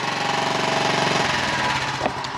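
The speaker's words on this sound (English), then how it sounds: "So turn it on, a little kick start there, and there she is, one kick wonder." Honda mini bike engine, just kick-started after a valve adjustment, running with a rapid, even putter that steadies into a rough idle, loud and close with no talking.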